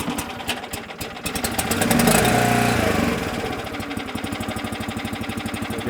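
An FHC 10 hopper conveyor's small engine idles steadily nearby, a loud, even chugging with rapid regular pulses that swell briefly before settling back to a steady idle throughout.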